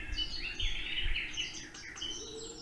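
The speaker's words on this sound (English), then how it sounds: "We want to wake up the birds." Bright, warbling birdsong from a sunrise alarm clock, with rapid chirps and trills, steady and fairly close, over a faint low hum.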